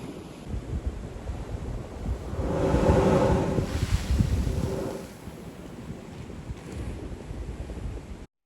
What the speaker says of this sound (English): The water may actually spout as far as 20 to 50 feet in the air. A hissing sound is made with each plume.